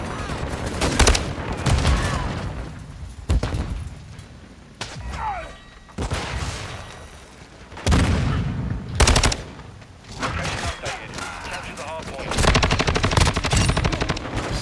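Call of Duty Modern Warfare 2 gunfire in a multiplayer hardpoint match, with loud bursts of automatic fire and single shots in rapid clusters separated by brief lulls, with occasional distant thuds.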